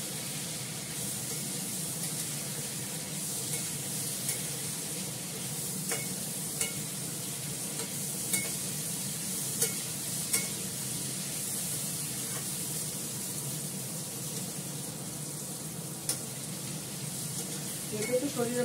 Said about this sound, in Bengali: মশলাটা কষে যাচ্ছে